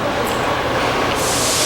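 Steady broadband rumble and rattle inside a moving train carriage, continuous and fairly loud, with no voices.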